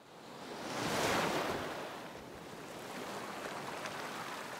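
Waves wash onto a beach shoreline in a children's animated show, a soft broad rush that swells to a peak early, then settles into a steady, fainter surf hiss with no voices.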